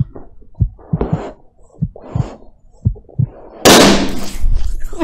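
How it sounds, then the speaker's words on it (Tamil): An inflated balloon bursts with a sudden, loud, sharp pop late in the sequence, following a stretch of softer intermittent knocks and rustles, then leaving a noisy rush that trails off. "ஊதி வந்து வெடிக்க வச்சிருக்கிற பலூன்"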